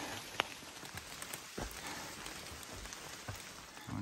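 Rain falls steadily on a rocky hiking trail along the Appalachian Trail, a soft continuous patter with a few sharper nearby drops and taps, fairly quiet and with no voices.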